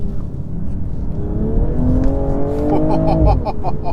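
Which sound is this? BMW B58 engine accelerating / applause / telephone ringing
BMW B58 engine accelerating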